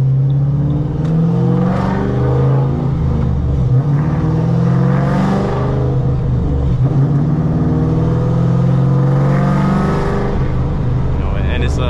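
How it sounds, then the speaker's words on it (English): A cammed 2008 Ford Mustang GT with Ford Performance hot rod camshafts and full bolt-ons drones loudly from inside the cabin as it drives, its engine swelling and easing with revs throughout. "we are currently inside my 2008 Mustang GT."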